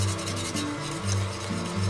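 A wire whisk scrapes and rubs rhythmically against a pot, stirring cocoa powder into hot water for a thick syrup, with close, rasping back-and-forth strokes and no speech.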